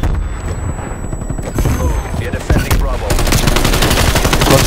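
Dense, loud gunfire from a first-person shooter video game in competitive league play, with overlapping rapid shots and booms continuing throughout, alone without talk.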